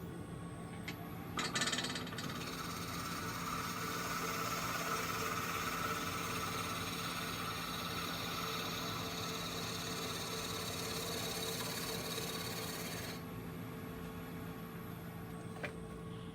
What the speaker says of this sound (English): That was a rough and gouge cut.